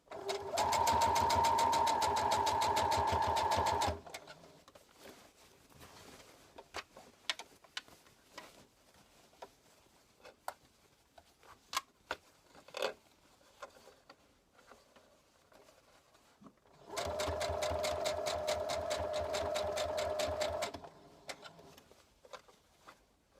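A sewing machine stitches bias binding onto dress armholes, running in two loud, steady rhythmic bursts of several seconds each, separated by a long stretch of quiet fabric handling and light ticks.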